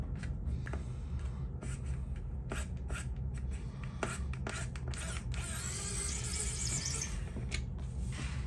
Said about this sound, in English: there's a couple of screws here that we're gonna have to remove.